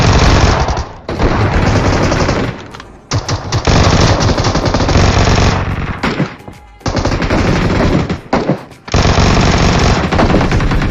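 A Vector submachine gun fires in a video game in long, loud, continuous automatic bursts, broken by a few brief pauses, with no talk over it.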